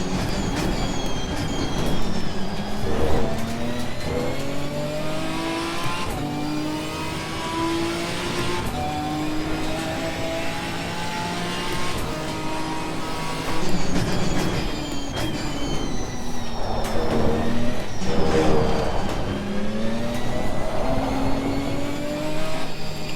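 A Ginetta G55 GT4 race car in Assetto Corsa Competizione drives in traffic behind other cars, its engine droning loudly and rising and falling in pitch through repeated gear shifts and revs, with no talk.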